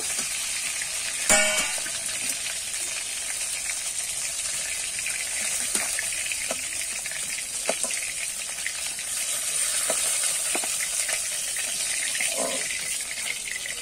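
Fish roe frying in the oil left from frying silver carp pieces, a loud continuous close sizzle with occasional sharp crackles and a few clinks.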